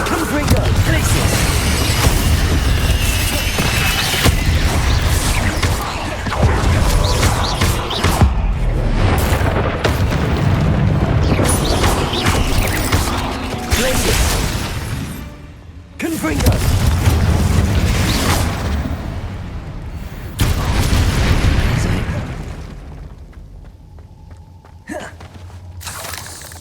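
Confringo blasting spells explode in the Hogwarts Legacy game, heavy booming bursts and debris crashes repeating through a loud stretch, with brief quieter gaps and a fading tail.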